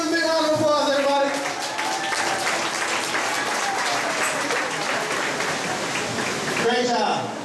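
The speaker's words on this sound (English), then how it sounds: "give him a big round of applause" A studio backlot tour audience applauds for several seconds, a dense steady clapping wash that fills the space, with a voice speaking over it near the start and the end.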